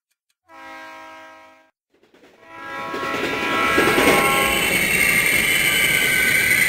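A train in a Diabolik PlayStation 2 cutscene sounds a brief horn, then rumbles in and builds to a loud, steady roar of wheels and cars on the tracks, with a rising metallic whistle-like tone layered over the rush.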